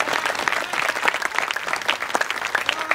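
A festival crowd at Murthal Mahotsav claps in sustained, dense applause, loud and continuous with lively irregular peaks throughout.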